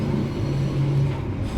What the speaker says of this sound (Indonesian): Dan di sini bersilang dengan sesama kereta api Sriwijaya Utama